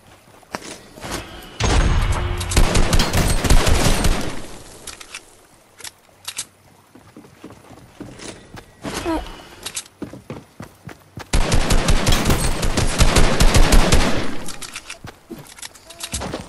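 Dense automatic gunfire in a video game, loud and close, coming in two long sustained bursts of rapid shots separated by scattered single cracks.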